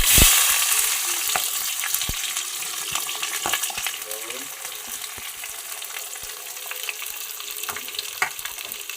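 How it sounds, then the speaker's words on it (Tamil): Green chillies and onions fry in hot oil with mustard seeds, a steady broadband sizzle and crackle with scattered sharp pops and spatters, close and loud throughout, no talking. "இப்போ பச்சை மிளகாவும் வெங்காயம் சேர்த்துக்கலாம்"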